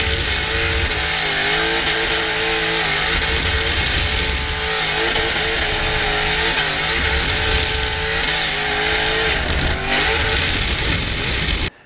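Infiniti M35 party car with a 500hp V8 accelerating hard, a loud, continuous engine roar with rising and shifting pitch held close and steady for the whole stretch, then cutting off abruptly at the end.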